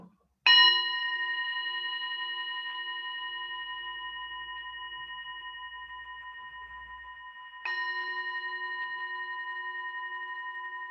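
A gong is struck during a guided Vesak meditation, ringing with long shimmering overtones that slowly fade, then struck a second time partway through, its resonance swelling again.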